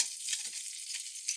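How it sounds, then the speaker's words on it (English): Tomatillos roasting in a hot pan give off a steady, close hiss of sizzling that runs unbroken throughout, with a few brief louder pops and no voices. "you see that sizzling?"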